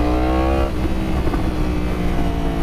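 A 2016 Yamaha R1 motorcycle revving with what looks like a standard exhaust, a loud, close, rich engine note that rises and then settles into a steady throaty drone.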